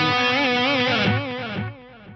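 Keyboard run through a Korg A3 effects unit with heavy delay and damping, a sustained bright tone whose repeats warble and then fade out over a couple of seconds.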